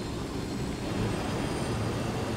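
Helicopter engine in the video game Ghost Recon Wildlands, a steady loud whirring drone with broad rumbling noise that holds evenly throughout, no talking over it.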